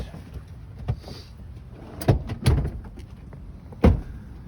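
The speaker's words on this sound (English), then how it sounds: "When you lock your vehicle, key fob, the mirrors fold in." The side mirrors on a 2022 Volvo XC90 fold in after the car is locked with the key fob, heard as a few sharp clicks and thumps with brief motor whirs between them against a quiet background.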